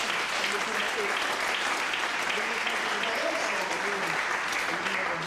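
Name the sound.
congregation applause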